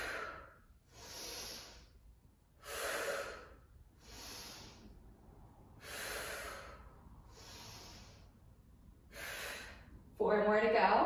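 Heavy rhythmic breathing during a low-impact barre class, with about eight loud, close inhale and exhale bursts separated by short pauses and a sharper noisy burst at the very end.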